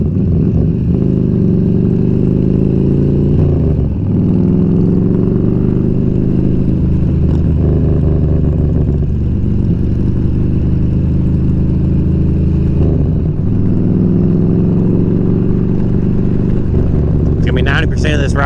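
A motorcycle engine drones steadily at about 3,000 RPM while riding, with loud constant rumble and a few small pitch shifts, heavy wind noise over it.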